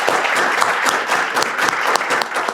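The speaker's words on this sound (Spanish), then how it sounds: "Un aplauso." An audience applauding at a book presentation, dense close clapping that fills the moment steadily and loudly without letup.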